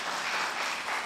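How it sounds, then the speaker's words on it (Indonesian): Church congregation at a Sunday service in Pontianak, Indonesia claps together, a dense continuous wash of applause filling the short moment without pause. "Beri tepuk tangan dulu untuk Tuhan kita."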